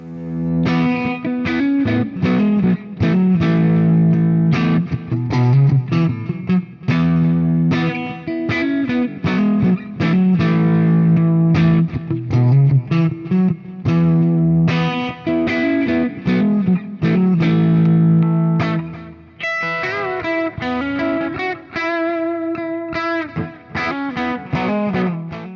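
Gibson Jessica Slash Les Paul electric guitar played through heavy, crushing distortion, loud dense chords and riffs ringing continuously with effects and a brief thinner, cleaner passage near the end.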